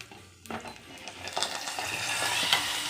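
Spices crackling as they temper in a small lamp-like pan, then tipped into a pot of salted buttermilk; a sharp metallic clink partway through, followed by steady sizzling and faint utensil taps, fairly close with no talking.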